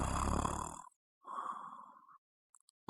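A sleeping person snores twice during a Call of Duty game, two rough drawn-out breaths separated by a short silence, followed by faint clicks.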